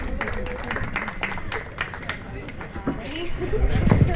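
An audience at a get-together felicitation ceremony applauds, uneven clapping mixed with crowd chatter and voices, swelling louder toward the end.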